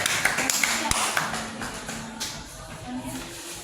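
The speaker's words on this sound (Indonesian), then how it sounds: "Kasih tepuk tangan dulu untuk kelompok 4" Students in a classroom clap briefly for a group, giving a few sharp taps and claps that fade into room noise.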